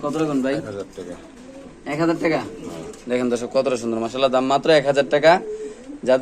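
King and racer pigeons at a wholesale pigeon market coo in repeated rolling bursts, close by, with someone talking over much of it.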